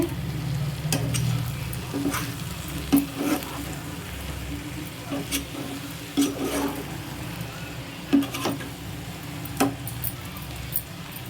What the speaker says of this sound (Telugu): ఈ పెసరపప్పుని ఈ వంకాయ ముక్కల్ని బాగా కలిపేసుకుంటే